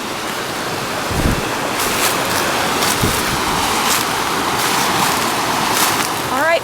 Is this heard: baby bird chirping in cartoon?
no